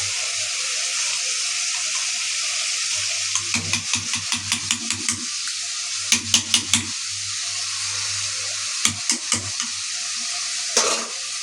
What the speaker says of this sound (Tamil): இப்போ இதை மசிச்சு விட்ட பருப்பு தண்ணி எடுத்து அதில் ஊற்றிடலாம்.